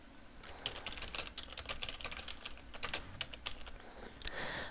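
Typing on a computer keyboard while writing a forum private message, a steady run of soft key clicks with irregular bursts, fairly quiet and close, no voices.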